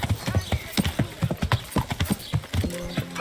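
Horse hooves clip-clop in a steady, close rhythm of repeated hollow knocks in Kingdom Come: Deliverance, with a brief tonal squeal near the end.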